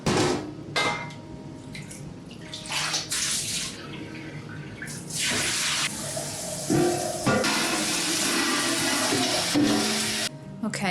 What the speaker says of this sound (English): So next step is gonna be putting the yarn that's in there into the sink to drain